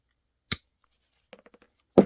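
A Weha die cutter with a screw-drive mechanism slicing through material, heard as two sharp isolated cuts separated by a quick run of faint light clicks, close and otherwise quiet.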